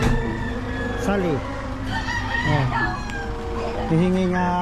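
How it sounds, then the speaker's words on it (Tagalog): Fighting roosters crow and cluck close by in a backyard, with short rising calls and clucks scattered across a few seconds over a steady background hum and faint voices. "Manok na pansabong."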